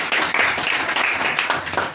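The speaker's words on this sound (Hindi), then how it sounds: "इनके लिए जोरदार एक ताली हो जाए" Students in a mobile-phone repair practical class give a short, dense burst of clapping, steady and fairly loud throughout.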